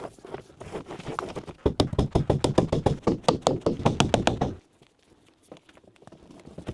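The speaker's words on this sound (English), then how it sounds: "now I'm gonna staple it to these trusses here" A staple gun or hammer drives staples holding electrical Romex cable to wooden roof trusses in a framed building, a rapid, loud series of regular knocks that stops abruptly, leaving quiet room tone.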